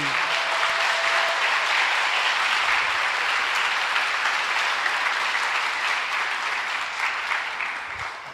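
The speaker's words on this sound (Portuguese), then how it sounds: "Vamos aplaudir as mulheres que estão aqui" Church congregation applauding during a sermon, a sustained dense round of clapping that fills the space and stays loud throughout before easing slightly near the end.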